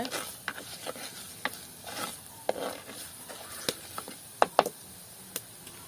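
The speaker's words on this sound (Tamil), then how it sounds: "கொஞ்சம் பொன்னிறமா வதங்கி எல்லாம் வரத்தான் நாங்கள் பாலை ஊற்றணுமா" Ingredients sauté in a pan until golden for Jaffna coconut milk sodhi, a faint sizzle under scattered sharp clicks and knocks of a spoon stirring against the pan.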